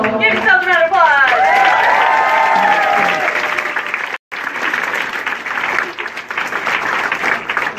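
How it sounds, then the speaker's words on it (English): Protest crowd applauding and cheering at a DACA rally in Northampton, a dense wash of clapping with voices calling out over it, a brief break, then applause carrying on steadily. "Give yourselves a round of applause"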